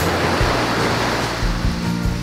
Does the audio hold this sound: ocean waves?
yes